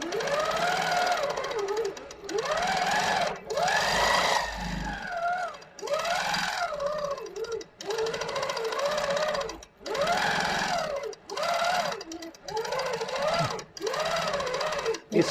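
A Handi Quilter Avanti longarm quilting machine stitches in rhythmic bursts of rapid mechanical whirring, broken by short pauses, close and steady throughout.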